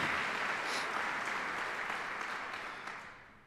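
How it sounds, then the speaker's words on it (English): Audience applause at a military retirement ceremony: dense, steady clapping from a crowd that holds strong and then tapers slightly toward the end, with no voices over it. "Let's give him a round of applause, please."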